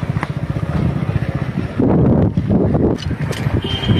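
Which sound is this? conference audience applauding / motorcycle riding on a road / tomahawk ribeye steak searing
motorcycle riding on a road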